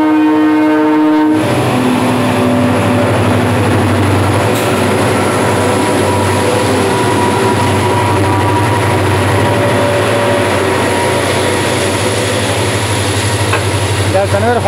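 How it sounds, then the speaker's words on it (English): A goods train hauling charcoal passes close on the line near Doodhsagar, opening with a loud horn blast, then a heavy continuous rumble and clatter of wagons for the rest of the passage. "another haul of goods train."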